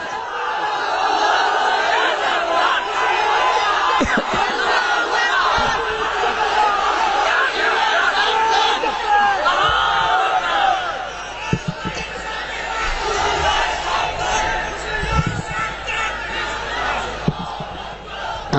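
A large crowd at a Bangladeshi religious rally roars the takbir response in unison, a loud, sustained chant that swells and holds for many seconds with scattered shouts throughout.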